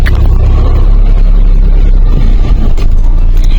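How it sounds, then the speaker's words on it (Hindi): Road traffic in Zirakpur after rain, a steady loud rumble of engines and tyres from close vehicles, low and continuous with a passing swell near the end, no voices. "चिरकपुर पहुंचते ही ट्रैफिक"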